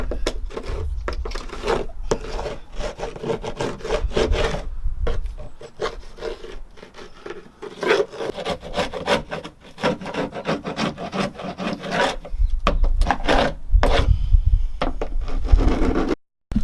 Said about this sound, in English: That's all the rubbing down done.